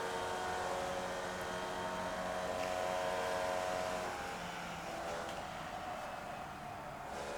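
Race car engine in the iRacing simulator drones at steady high revs, a continuous, fairly quiet whine without talk.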